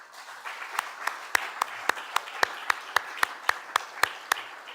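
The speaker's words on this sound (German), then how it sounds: "einfach einen großen Applaus bitte einmal für unsere Referenten des heutigen Tages" An audience in a hall claps for the day's speakers at a hydrogen summit, with sharp, evenly spaced claps in a steady rhythm over a soft crowd murmur.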